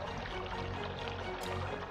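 Water pours in a steady stream for washing hands, a continuous close splashing rush with no voices.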